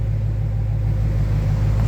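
A 2021 Dodge Challenger Scat Pack with its Hemi V8 breathing through small bullet mufflers idles with a deep, steady low rumble, loud and close, with no revving.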